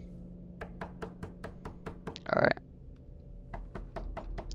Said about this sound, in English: Or sleeping at times and having the door be knocked.